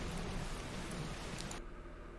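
Steady synthetic rain from a rain noise app, a soft, even hiss of falling rain that cuts off abruptly near the end, leaving quieter low rumble.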